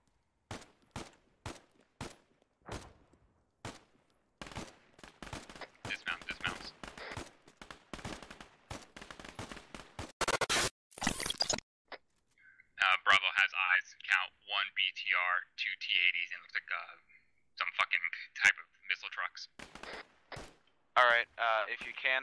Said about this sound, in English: All teams open fire.